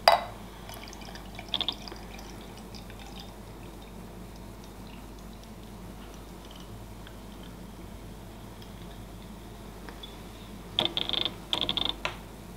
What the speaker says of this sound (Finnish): Olut on lasissa.